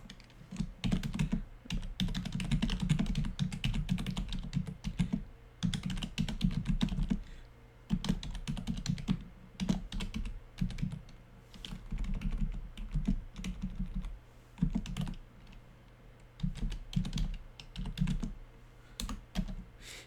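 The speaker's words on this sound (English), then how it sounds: "as I'm typing this, you can see a preview of what it's going to look like" Someone types on a computer keyboard in close, clattering bursts of rapid keystrokes separated by short pauses, with no voices.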